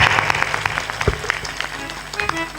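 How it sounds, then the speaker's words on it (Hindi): Loud audience clapping during a spiritual discourse by a sant, a dense, close burst of applause with a few voices mixed in. "जोर से ताली बजा"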